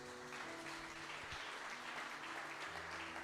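A church congregation applauds together during a sermon, a steady broadband wash of clapping at moderate level with low hum and faint tonal murmur underneath, lasting throughout.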